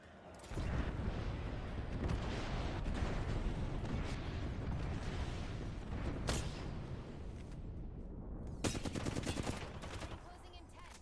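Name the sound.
airstrike explosions in Apex Legends video game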